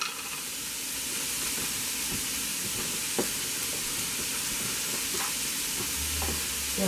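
Chopped onion and minced garlic sizzle steadily in a frying pan while a spoon stirs them, with soft scraping strokes audible through the continuous close hiss.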